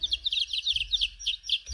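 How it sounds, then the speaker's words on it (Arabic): A chick cheeps in a rapid string of thin, high chirps, steady and fairly close throughout the short stretch, with no voices. "صوت الكتكوت"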